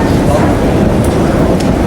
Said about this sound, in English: We're going down the escalator, metro station.